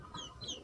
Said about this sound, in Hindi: वहाँ पर हैं दो चूजे, मैं आपको दिखाता हूँ